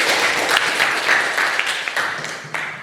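Applause from a classroom of students greeting their teacher at the start of a lesson, a steady patter of many hands clapping close by, with no talking over it.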